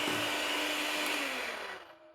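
Steady broadband whir of a whisk, likely electric, beating cake batter with vanilla in a bowl, continuous and fairly close, tailing off near the end before a brief final burst.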